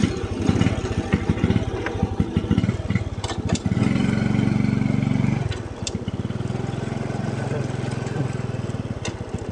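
A motorcycle climbs a hill road into a small mountain village in Oudomxay province, Laos, its engine a steady, close, buzzing drone that swells briefly mid-way before settling back to an even hum.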